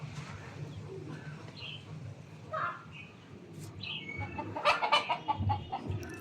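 Chickens on a rooftop where fowl are kept give scattered clucks and short calls at moderate distance, growing busier and louder toward the end over a low steady background hum.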